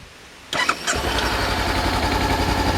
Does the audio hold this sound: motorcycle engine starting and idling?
yes